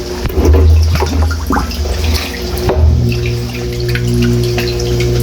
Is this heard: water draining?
yes